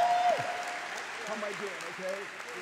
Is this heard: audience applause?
yes